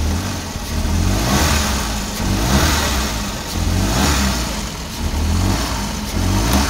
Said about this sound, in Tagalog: I-try natin i-rev. Ayan, halata na palyado ang makina oh.